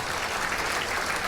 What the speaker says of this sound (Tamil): தமிழச்சிக்காக நல்ல ஒரு கைத்தட்டல கொடுங்க.